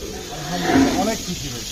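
A sacrificial Qurbani cow at a cattle farm lets out one low, drawn-out moo that swells and fades within a couple of seconds, fairly close by.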